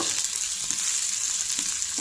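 Steady, bright sizzle of ginger julienne frying in hot oil for a tadka on a low flame, a continuous crackling hiss with a few soft stirring clinks.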